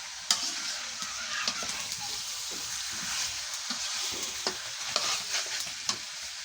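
Beef is stir-fried in a pot over a clay stove, with a constant sizzle and frequent sharp scraping and knocking stirs spread irregularly across the clip, close by and without speech.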